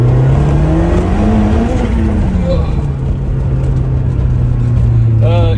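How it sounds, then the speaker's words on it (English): A 1990 Lotus Esprit SE turbo accelerating on throttle, its engine drone close and loud, climbing in pitch and then holding steady, while someone talks over it. "We'll give it a little squeeze on the throttle here and see what happens"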